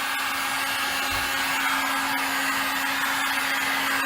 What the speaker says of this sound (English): So now we'll use the heat gun again